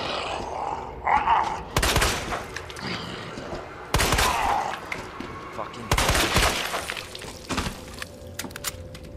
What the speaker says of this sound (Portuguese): Eu tô ouvindo barulho de zumbi.